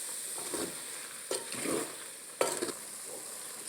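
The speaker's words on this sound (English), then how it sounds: "I'm going to add red wine, 1 cup of red wine, and I mix." Red wine is stirred into onion soup in a pot, giving a few soft spoon scrapes and clinks over a faint simmering hiss, quiet and close, without talk.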